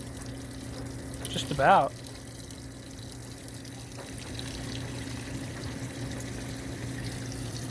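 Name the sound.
water filling a GE top load washing machine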